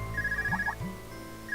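A portable orbment device rings in Trails of Cold Steel with a repeating electronic ringtone, steady high chirping tones looping over a low game music bed, moderately loud and close.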